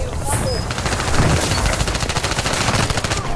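Rapid gunfire in Call of Duty Warzone on Rebirth Island, loud repeated shots in quick bursts with a shotgun in the mix, close and continuous.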